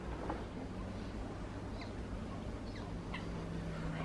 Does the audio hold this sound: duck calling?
yes